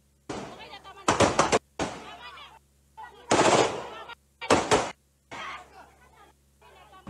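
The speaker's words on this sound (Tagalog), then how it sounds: "Sunod-sunod na warning shot ang pinaputok ng mga tauhan ng Philippine Army sa polling precinct sa bayan ng Buadi Puso Buntong sa Lanao del Sur" Philippine Army soldiers fire a series of warning shots at a polling precinct in Lanao del Sur, Mindanao. Several loud, sharp bursts come in quick succession with brief gaps between them, and voices can be heard amid the commotion.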